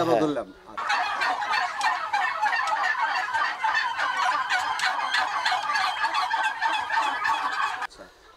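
Turkeys on a turkey farm gobbling in a dense, overlapping chorus, many birds calling at once from close by, loud and continuous for several seconds before stopping abruptly.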